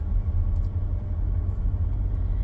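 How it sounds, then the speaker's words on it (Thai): Steady car engine rumble from inside a vehicle driving home, a continuous low drone with road noise and no speech. "ขับรถกลับบ้านนะจ๊ะ"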